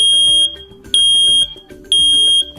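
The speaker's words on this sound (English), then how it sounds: "When an alarm is triggered, you'll hear a loud 85 decibel T3 pattern chirp to alert you." A smoke alarm sounds its loud 85-decibel T3 pattern, sharp high piercing beeps in repeating groups of three with short pauses between them, close and alone.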